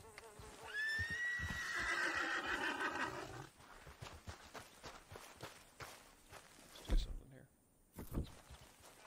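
A horse in the Red Dead Redemption II video game lets out a loud, drawn-out whinny, followed by hoof clops and movement sounds, with a sharp thud near the end.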